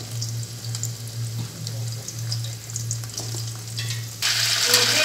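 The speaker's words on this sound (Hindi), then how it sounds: "तो भिंडी भुन लगी" Okra frying in oil in a pan, a continuous close crackling sizzle over a low steady hum, turning louder and brighter near the end as the frying intensifies; no one speaks.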